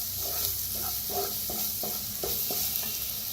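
A spice mix with turmeric roasting in a pan gives a steady sizzle and hiss, with about eight evenly spaced stirring strokes scraping through it, no voices.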